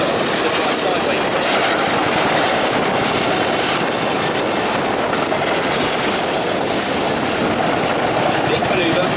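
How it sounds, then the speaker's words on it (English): A display aircraft thunders through a steep nose-down manoeuvre and quick stop at the Duxford Air Festival, a loud, steady engine roar filling the whole stretch with no letup. "The aircraft now goes through about 80 degrees, nose down quick stop to fly sideways."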